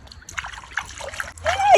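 A small child splashes in cold water in a sandbox paddling pool outdoors, with close, uneven splashes and sloshing that build louder toward the end, and voices speaking briefly alongside.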